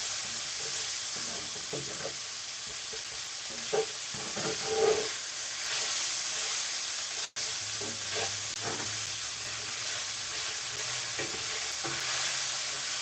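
Onions and garlic sauté steadily in a pan on a home stove, a continuous close sizzle and fry broken by brief stirring scrapes and clatters, with no voices.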